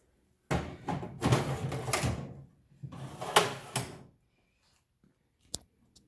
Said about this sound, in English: we'll open the drawers for you.